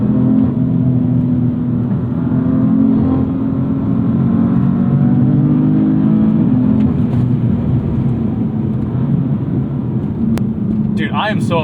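A 2016 BMW M3 F80 accelerates hard through gear shifts in Sport Plus, its loud engine drone climbing and dropping with each change, heard from inside the cabin as people talk over it.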